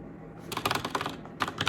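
Password being typed on a computer keyboard: a quick run of close, crisp key clicks, a short pause, then a second brief burst of keystrokes, with no talking.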